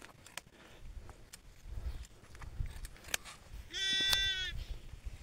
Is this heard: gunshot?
no